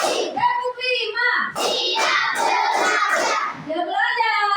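Schoolchildren in a class clap in a counted rhythmic concentration routine, with sharp hand claps in a steady pattern as young voices chant along throughout.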